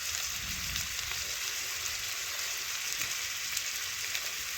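Cut potatoes frying in a pan with salt, turmeric and Kashmiri chilli powder, giving a steady, even sizzle that stays close and continuous with no voices.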